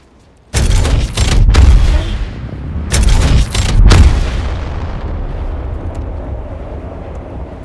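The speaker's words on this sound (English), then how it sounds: "Yo, replicator's coming in for a landing." Apex Legends replicator drop landing in the video game: a sudden deep boom followed by a rumbling, crackling impact that swells again, then a long fading roar, loud and close with no talk.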